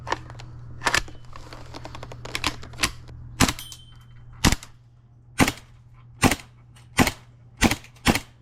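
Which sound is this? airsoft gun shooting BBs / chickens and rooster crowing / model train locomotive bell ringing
airsoft gun shooting BBs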